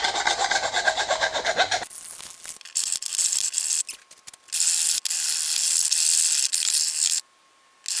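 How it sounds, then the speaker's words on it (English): Hand file rasping along the cut edge of an exhaust pipe on a 2009-2014 MK6 TDI Golf or Jetta muffler delete, a rapid run of close scraping strokes, then scattered short scrapes separated by silences. "I'm just going to get a file, smooth out the edge"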